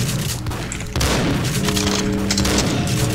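Loud gunfire from the Max Payne PC game bursts out in a rapid volley of booming shots and thuds, dense and close, with no talk over it.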